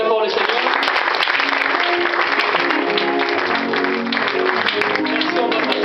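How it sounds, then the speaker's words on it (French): A church congregation applauding loudly at an evangelical service in Le Mans, with dense sustained clapping and cheering voices throughout, steady and close. "Est-ce qu'on peut acclamer très fort le Seigneur?"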